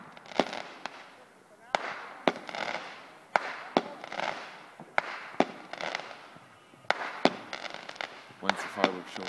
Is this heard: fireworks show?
yes